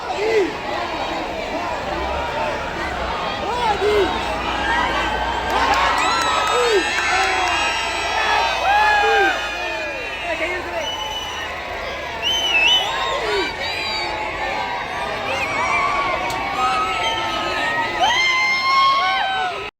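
Dense roadside crowd cheering for Prime Minister Modi's passing procession, with continuous shouts, whoops and excited voices layered together in a lively, steady roar.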